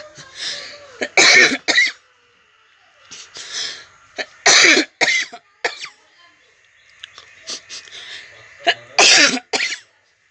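Harsh coughs from someone with a cold come in several loud clusters of two or three, separated by quiet pauses, close to the listener.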